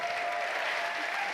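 A short burst of audience applause at the E3 2019 PC Gaming Show conference, dense steady clapping from a crowd at moderate volume.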